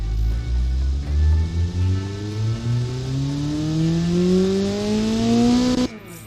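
Engine in the Automation car-building game revving at high RPM, the pitch climbing steadily in one long loud sweep for about six seconds before cutting off abruptly near the end.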